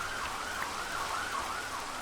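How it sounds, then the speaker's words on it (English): A wailing emergency siren sweeps up and down outside, heard indoors at a moderate distance over a steady background hiss resembling rain, with no talking. "sirens outside, at least somewhat"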